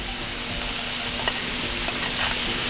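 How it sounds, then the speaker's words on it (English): Onions and capsicums for a green Thai curry fry in a pan, giving a continuous hissing sizzle with a few faint stirring clicks near the end, heard alone without talk. "Now I'm about to put in my onions and my capsicums."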